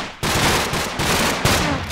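Bursts of rapid automatic gunfire from a Minecraft game, fired at a Christmas tree, come as loud continuous rattling volleys with short breaks between them and no talking.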